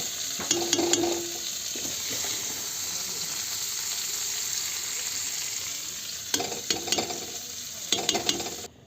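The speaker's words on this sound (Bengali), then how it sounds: "এরপর আমি এর মধ্যে দিয়ে দিচ্ছি ভেজে রাখা সবজিগুলো" Fried mixed winter vegetables going into a pot of cooking rice-and-lentil khichuri, a continuous bubbling sizzle with bursts of stirring and clattering scrapes near the start and again toward the end, no speech.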